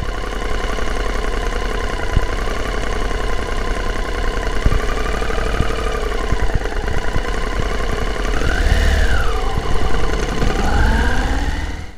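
A motorcycle engine runs steadily throughout on a road in the Vercors mountains of France, a low droning rumble with occasional knocks, rising briefly in pitch as it revs near the end.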